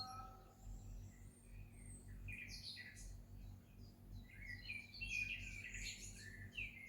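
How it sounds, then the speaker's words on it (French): Several small birds chirp and trill in scattered bursts over a steady low hum on a summer night, the calls fairly close and moderately loud. "Des oiseaux"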